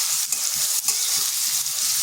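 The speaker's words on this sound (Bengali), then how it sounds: "পেঁয়াজটা একটু হালকা ভেজে নিচ্ছি।" Onions fry lightly in hot oil with a dense, even sizzle close by, a couple of soft stirring scrapes breaking through; no one speaks.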